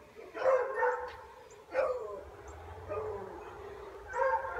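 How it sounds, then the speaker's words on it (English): A dog barks in a few excited bursts, some near and some sharper, with short whimpers and pauses between them and a faint low rumble underneath. "Dog's going crazy."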